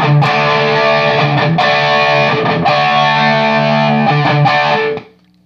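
A Jamtastik distortion pedal drives an electric guitar, giving loud sustained chords with a handful of strong strums, played alone for about five seconds and then stopping abruptly.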